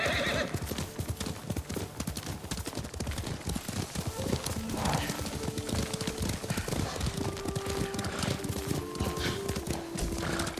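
Horse hooves gallop in a rapid, steady clip-clop while riding in Ghost of Tsushima, with an occasional whinny and brief musical tones over the continuous hoofbeats.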